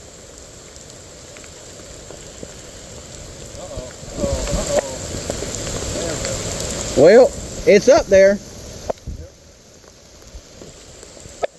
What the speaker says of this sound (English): this is what fools do: play disc golf in the rain.